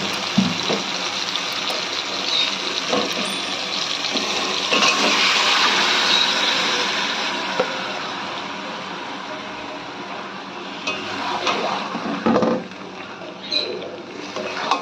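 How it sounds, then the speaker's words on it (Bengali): Marinated chicken pieces dropped into oily fried spice paste for chicken korma, giving a steady broadband hiss and sizzle with louder splashy bursts partway through and again near the end, no talking. "এবার ম্যারিনেট করা মাংসটা আমরা দিয়ে দিচ্ছি।"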